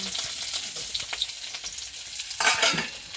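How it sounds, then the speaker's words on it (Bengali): Onions hit hot oil in a pan for taro stalk curry, giving a soft steady sizzle with stirring scrapes and a louder burst of frying near the end. "এই আগে তেল দিলাম, তারপরে পেঁয়াজ দেব, এই পেঁয়াজ দিলাম।"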